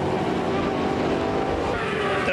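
Racing motorcycles at the 1996 AMA Daytona 200 roar continuously at high revs, with engine whine and harmonics holding steady as they run down the backstretch, loud and close throughout.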